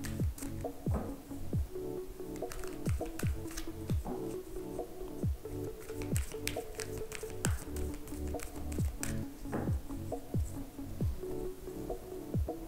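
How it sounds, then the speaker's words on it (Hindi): Tarot cards being shuffled by hand give soft, repeated taps and flicks in an uneven rhythm, quiet and close, with no talking over them. "कार्ड्स को शफल कर लेते हैं।"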